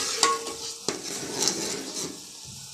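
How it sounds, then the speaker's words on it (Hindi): A yogurt masala sautés over low heat, giving a soft sizzle under close, repeated stirring scrapes and knocks of a spoon against the pan. "अब मैं इसको अच्छी तरह भूनूंगी,"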